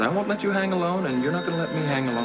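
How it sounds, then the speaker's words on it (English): A telephone rings in a soap opera scene, its bright, high electronic tone cutting in midway and ringing on beneath a man's continuous speech. "Excuse me, I believe that's the phone."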